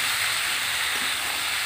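Country chicken and potatoes fry together in a pan, cooked picnic style, giving off a continuous loud, even sizzling hiss.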